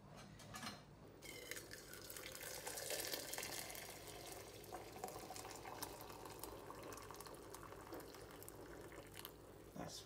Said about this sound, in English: I've just been adding water to it.